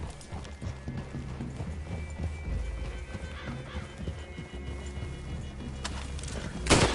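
Horses' hooves clop steadily on the ground nearby in an uneven walking rhythm, with a brief snort or louder burst near the end.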